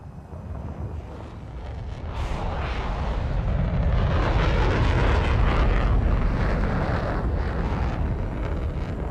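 In a video game, a jet fighter engine roars with its afterburner lit, making a loud, rumbling, wind-like roar that swells and holds steady throughout.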